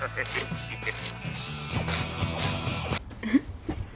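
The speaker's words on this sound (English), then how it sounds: "you essentially want to push it this side as you pull it this side. Normally I use a longer wrench." A ratchet wrench clicks steadily as it turns a bolt on a Mini Cooper S N18 engine, with close mechanical ratcheting and creaks and a voice talking over it.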